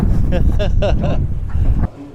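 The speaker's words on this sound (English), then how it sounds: "It is very windy up here, as I'm sure you can hear in the microphone right now." Heavy low wind buffeting rumbles against the microphone high up at an abandoned naval base in New Orleans while a voice talks over it, then drops off abruptly near the end.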